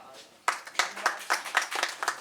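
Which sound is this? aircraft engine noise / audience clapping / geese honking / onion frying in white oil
audience clapping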